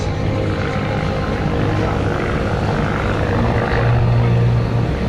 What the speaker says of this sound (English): The two Stearman biplanes, known as the Model 75, designed in the 1930s by Lloyd Stearman